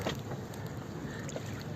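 A fishing boat out on the water, with a steady broad wash of engine and water noise and some wind buffeting the microphone, with no speech heard.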